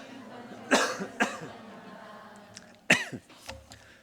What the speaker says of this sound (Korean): 물 먹다가 살에 걸려서 지금 기침하고 있는 겁니다